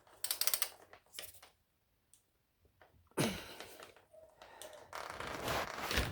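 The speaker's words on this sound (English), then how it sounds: "it's only your socket set to get it off" A socket-set ratchet works a square-taper bottom bracket out of a bicycle frame: quick clicking ratchet strokes at the start, a pause, then longer bursts of ratcheting and metallic grinding, close by.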